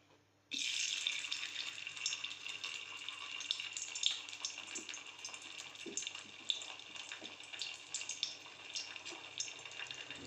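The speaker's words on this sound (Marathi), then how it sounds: "तेल तापलं की आपण आता याला डीप फ्राय करून घेऊया" Cabbage pieces dropping into hot oil for deep frying, bursting into a loud, continuous bright sizzle that holds steady for several seconds, close by with no talking.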